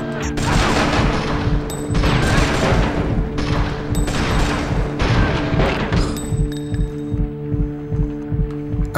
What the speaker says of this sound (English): Let's try the assault rifle.